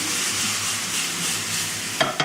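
Food sizzles steadily in a frying pan while being stirred, a continuous close hiss with a couple of sharp scraping clatters near the end.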